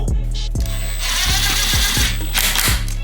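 A power drill drives self-tapping screws into a Maxton front splitter being fitted to a Ford Fiesta ST, whirring loudly and continuously with repeated ratcheting bursts and a high whine over a steady low motor drone.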